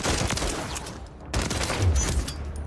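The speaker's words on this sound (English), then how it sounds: "Put this gun in single fire. When you do that, it actually shoots 2 bullets." A gun in single-fire mode in the video game Warzone fires a quick series of loud, sharp shots in close succession, with no voices.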